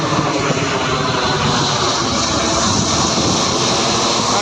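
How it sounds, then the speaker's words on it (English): A cargo plane passes overhead near a house under construction close to Phetchabun airport in Thailand, giving a loud, steady roar of engine noise with no talk. "The planes are like cargo planes"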